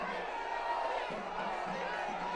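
A large crowd murmurs and calls out at Prime Minister Modi's roadshow in Kochi, Kerala, a steady distant roar of many voices with occasional louder shouts.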